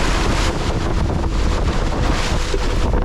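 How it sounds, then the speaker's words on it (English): Strong 25-knot wind roaring across the microphone aboard a small sailboat on the North Sea, with angry waves crashing against the stern; loud, continuous buffeting rush with no talking. "The strong 25-knot wind turned her around, stern into the wind. Angry waves were now smashing into the stern."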